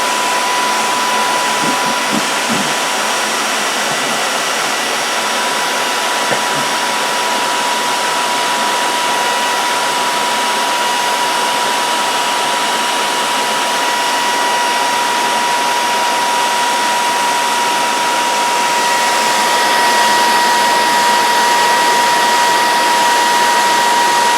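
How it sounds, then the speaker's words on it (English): A hair dryer blows steadily and loudly throughout, a constant broadband whoosh with a faint high whine. "I'm going to take my hairdryer."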